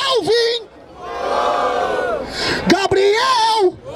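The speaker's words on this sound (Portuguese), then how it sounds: "barulho para as rimas do Kelvin" A crowd at an outdoor rap battle in Barueri, São Paulo, yells and cheers loudly in rising and falling whoops, with voices shouting close by and a short dip partway through.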